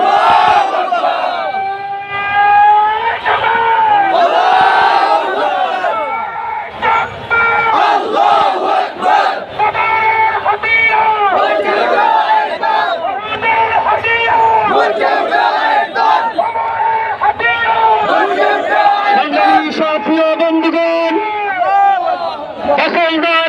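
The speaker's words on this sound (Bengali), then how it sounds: "একটি বিশাল মিছিল পুরানগর থেকে আমাদের সমাবেশে আসছে।" A large procession crowd chants slogans in loud rhythmic unison as it arrives at a March for Gaza rally in Bangladesh, with a voice leading the chant over sustained massed voices close by.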